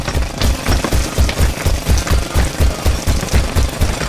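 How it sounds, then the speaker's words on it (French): A LEGO cartoon jackhammer truck pounds concrete with a loud, rapid, steady rattle of hammer blows, close and continuous with no talking. "Le marteau-piqueur casse le béton!"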